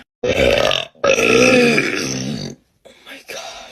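A woman lets out long, deep burps, two extended rumbling belches in a row, loud and close, followed by a shorter gurgling one.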